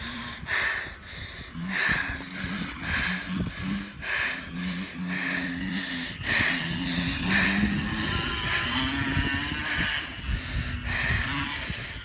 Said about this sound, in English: my cousin is over there on her brother's dirt bike